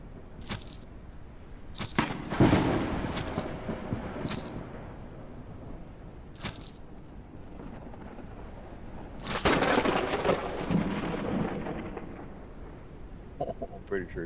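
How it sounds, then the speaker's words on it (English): Thunder from lightning in the video game Forever Skies: several sharp cracks at irregular intervals, some followed by longer rumbling rolls, mixed with a player speaking at times. "Please don't strike me, lightning."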